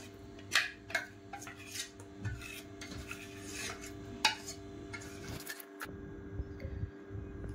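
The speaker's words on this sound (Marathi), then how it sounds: "आता हे याच पातेल्यात आपण सगळं मिश्रण एकत्र करून घेणार आहोत." Ground rice and dal batter for idli being mixed by hand in a pot, with steady rubbing and scraping sounds, a few sharp clinks against the metal, and no talking.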